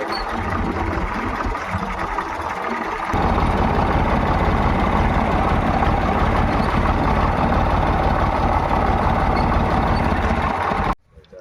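A tractor engine runs steadily on a threshing floor in a village, a loud continuous low rumble that grows fuller after a few seconds and holds until it cuts off near the end.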